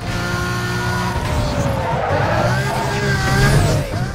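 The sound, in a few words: Lamborghini Gallardo racing through curves in Need for Speed: Most Wanted video game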